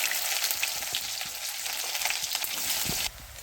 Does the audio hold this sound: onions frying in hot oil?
yes